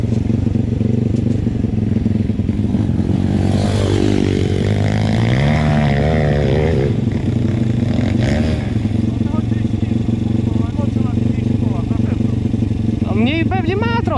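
A PitGang 140XD pit bike engine drones continuously nearby as it is ridden, rising and falling with throttle changes, with people talking over it.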